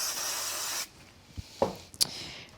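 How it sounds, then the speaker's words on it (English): A short hissing burst of spray glue for under a second, followed by a few faint taps and rustles. "Let me use a bit of spray glue."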